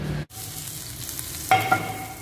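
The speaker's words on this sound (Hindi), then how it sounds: "तो जी, ये तड़का तैयार हो रहा है और तड़का लगेगा इसको" A tadka for mutton harissa, a tempering of spices in hot oil, sizzles steadily in the pan, with a brief louder burst of frying partway through and no talking.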